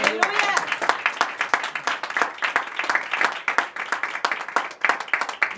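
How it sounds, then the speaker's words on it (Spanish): Applause from a congregation at an evangelical church service, dense rhythmic clapping that keeps going with a voice speaking over it. "Denle un aplauso"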